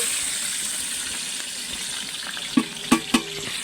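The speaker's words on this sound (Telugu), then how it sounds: "అన్నీ కొంచెం ఫ్రై అయ్యే వరకు ఇలా కలిపెట్టుకోవాలి" Mutton fries in oil with bay leaves, cinnamon, onion and green chilli, giving a soft, steady sizzle. Near the end come three sharp scrapes or knocks as the pan is stirred.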